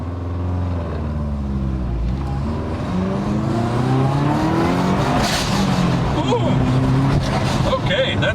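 A modified Subaru hot hatch accelerates hard, its engine note climbing steadily through the gears, loud and close from inside the cabin, with a brief voice over the start.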